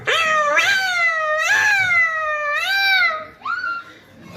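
A child imitates two cats fighting, producing four long, wavering meow-like yowls that rise and fall, loud and close, with short breaks between them.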